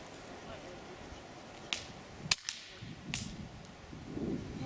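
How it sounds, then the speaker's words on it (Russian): A single sharp crack of an Edgun Matador R3M air rifle shot rings out once amid outdoor background noise, followed by fainter clicks and a brief murmur of voices. "Вот попробуем сейчас сделать первый выстрел."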